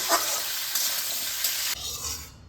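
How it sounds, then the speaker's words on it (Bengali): Drumstick (sajne) stalks frying in hot oil, a steady close sizzle with brief stirring bursts that drops off sharply near the end, leaving a quieter crackle. "এর মধ্যে ডাঁটাগুলোকে এর মধ্যে আমি অল্প ভাজবো, বেশি ভাজলে পরে ডাঁটার স্বাদটা নষ্ট হয়ে যাবে।"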